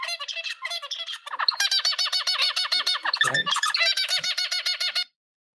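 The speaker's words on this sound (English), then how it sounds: "So here, let's pick birds chirping." Played-back sample of birds chirping: rapid, bright repeated chirps and trills in dense bursts, loud and close, lasting about five seconds before stopping abruptly.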